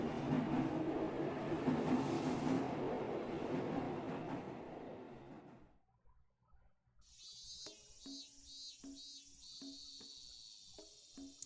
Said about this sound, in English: And right now, I'm sitting on a train bound for Azakawa Village.